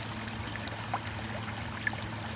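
A small pot fountain trickles and splashes faintly while its pump, running low on water in winter, gives off a soft steady hum beneath the quiet dribbling.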